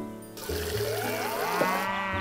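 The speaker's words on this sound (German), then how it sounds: "Ich werde dir gerade von Kühen angeschrien." Cows in the farming video game Story of Seasons: Friends of the Great Kingdom let out a long, loud, drawn-out moo with a sliding pitch, alone and close, with a faint trickling sound underneath.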